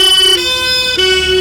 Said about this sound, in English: Oh, it's that Porsche, I think. Porsche police car.